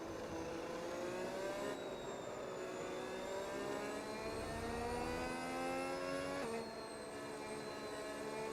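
An F1 26 video game race car revs and holds a high engine note on the way to the grid, with pitch rising steadily and shifting gears twice, continuous and fairly faint.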